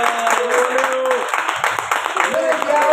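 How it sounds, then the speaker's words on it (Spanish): Audience applause at the opening of an art exhibition, a dense wash of clapping under a reverberant room tone, with voices and tonal sounds layered over it throughout. "Leo, no, fuerte el aplauso."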